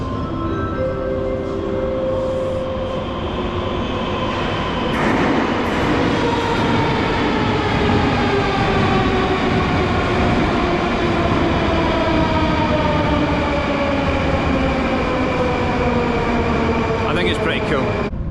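A Moscow metro train pulls out of the station, a loud, steady rumble with rising and falling motor whine and rail noise that carries throughout, with a faint squeal near the end.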